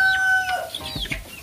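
Clucking and peeping from Rhode Island Red chicks about one month old, a few short calls and chirps close by, with no voices.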